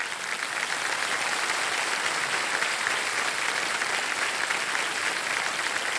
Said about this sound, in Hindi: तो देवी संजो, एक बार ताली बज जाए इनके लिए।